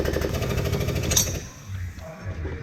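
A hydraulic swaging press crushing a metal fitting onto sailboat rigging wire, rattling in a rapid, loud, steady pulsing burst close by that stops abruptly, leaving a low machine hum.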